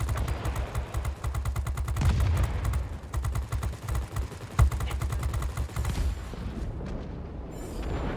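Rapid aircraft machine gun fire in the game World of Warplanes, long rhythmic bursts of dense rattling shots over a low engine rumble, loud and close, with one heavier thump midway.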